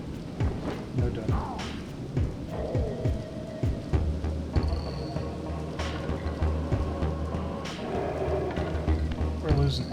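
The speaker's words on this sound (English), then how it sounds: "Once again, rain is not our friend." Steady rain pours in the video game Soul Reaver Remastered, with rumbling thunder rolling through and sharp crackling strikes, all heavy and constant throughout.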